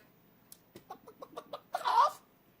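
A man mimics a chicken, making a quick series of short clucking sounds that build into a louder drawn-out squawk at the end, alone with no other talk.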